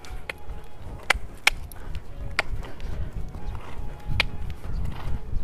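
A horse trots during groundwork, its hooves striking the ground in sharp irregular clip-clops over a low rumbling background, moderately near.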